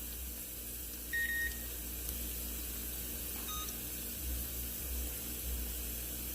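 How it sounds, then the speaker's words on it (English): An oven being set to preheat to 350 gives a short electronic beep, then a fainter second tone, over a steady low hum in a quiet kitchen. "so I'm gonna preheat my oven"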